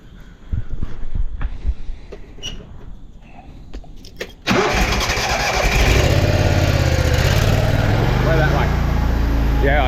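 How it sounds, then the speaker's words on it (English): A drain jetter engine fires up with a sudden loud start partway through, then settles into a steady, close, rumbling run after quieter earlier handling noises. "let's fire up this jetter."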